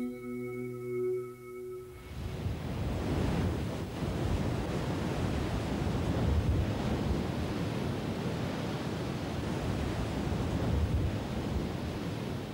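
Sea waves wash along the Alentejo coast among cliffs and small sandy beaches, a steady, loud roar of surf with wind, entering after a brief tonal opening and continuing without voices.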